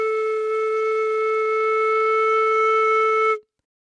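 A single steady, pure flute tone from a head joint alone with its far end covered by a hand, held for about three seconds, breathy and unwavering, then cut off cleanly.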